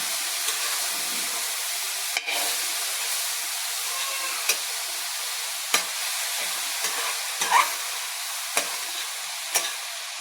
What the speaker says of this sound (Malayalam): നല്ലവണ്ണം ഇളക്കിയിട്ട് നമുക്കത് മൂടി വെക്കാം